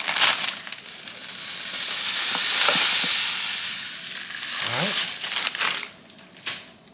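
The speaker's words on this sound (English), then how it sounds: "Now I'm going to give this a mix." Pollo asado marinade with Sprite and brown sugar being stirred in a bowl, a wet sloshing and crinkling mix that swells and fades over several seconds, close and moderately loud, with no talk.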